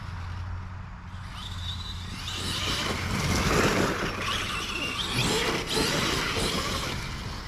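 An Arrma Kraton 8S RC car drives outdoors, its electric motor whining and rising in pitch as it accelerates, with gritty tyre and ground noise. It stays fairly loud and steady throughout, with no talking.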